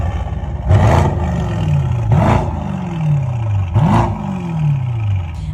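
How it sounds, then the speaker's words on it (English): An Aston Martin DBX 707 SUV revving through its quad tailpipes, three sharp throttle blips that snarl up and then fall away, loud and close with brief pauses between. "take a listen to those quad tailpipes in action"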